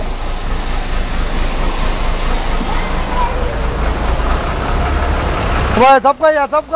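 A Repalle-bound bus engine idles at a depot in Duggirala, a steady low rumble that runs loud and unbroken before giving way to a burst of talk near the end.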